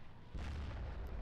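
A single heavy gunshot in the WWII strategy game Steel Division 2 lands as a deep, loud boom, followed by a sustained low rumble.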